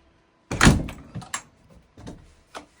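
An old front porch door at a house in Cazadero swinging shut, one heavy thunk followed by a few lighter rattles and knocks as it settles, close and clear, with no talking.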